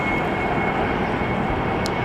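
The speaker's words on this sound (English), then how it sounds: "We got one that's coming around to take off and one that's getting ready to take off" An airplane at the LAX north runway in Los Angeles, a steady loud broadband jet roar with a faint thin whine on top, heard from a distance without talk.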